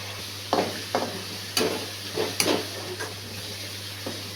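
Fish fries in oil in a pan for Nellore fish curry, a soft steady sizzle broken by several sharp scraping stirs and clinks at irregular intervals, close by.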